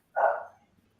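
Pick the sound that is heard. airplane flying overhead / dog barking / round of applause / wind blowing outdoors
dog barking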